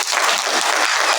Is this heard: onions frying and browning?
no